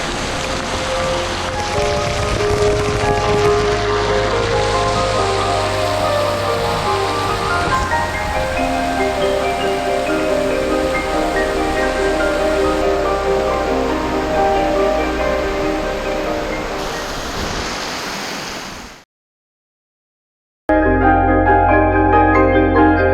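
A long waterfall pours down in a dense, continuous hiss like heavy rain, close and loud, then cuts out briefly before resuming.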